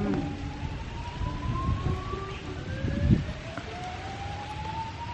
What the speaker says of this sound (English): I think it's a shark alarm.